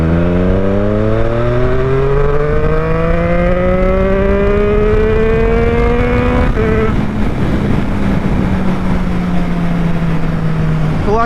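Triumph Street Triple 765 motorcycle pulling hard in third gear, engine note rising steadily in pitch as it accelerates, a brief dip near the end suggesting a gear change, loud and close with wind noise throughout.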